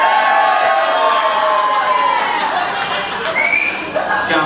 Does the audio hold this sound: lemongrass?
no